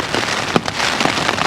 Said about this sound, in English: It's been raining constant for the last 6 hours now.